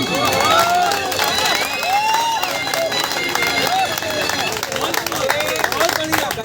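Audience applause after a song at an outdoor gathering in Gandhi Vihar, Delhi: dense, continuous clapping and cheering from a crowd, loud and steady, mixed with overlapping voices and whistles.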